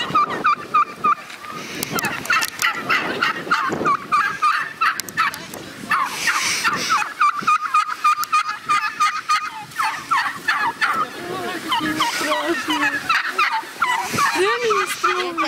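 Turkeys gobble repeatedly in a loud, close chorus at a rural school yard in Verkhny Kurb, with overlapping calls throughout and other farm fowl mixed in.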